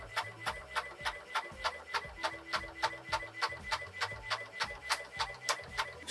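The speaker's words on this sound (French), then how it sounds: "Mon imprimante est en train de péter un plomb." An inkjet printer on a home desk, acting up during a sewing pattern print job, clatters through a steady run of about fourteen sharp, evenly spaced mechanical clicks over a low motor whir, close and moderately loud.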